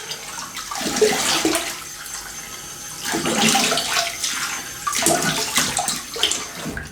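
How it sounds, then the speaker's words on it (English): Cold tap water runs and splashes over hands and face after a wet shave, a steady rushing hiss with uneven surges, close and continuous. "let me have a little rinse with cold water"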